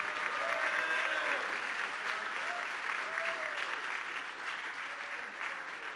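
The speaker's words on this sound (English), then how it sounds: "Can I have one big applause for these three gentlemen?" An audience at a Year 12 graduation ceremony applauds top-ranked graduating students with dense, even clapping that holds steady and close throughout, with no voices over it.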